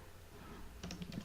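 Computer keys clack softly while code is typed. After a quiet pause a short, quick burst of keystrokes comes close to the microphone.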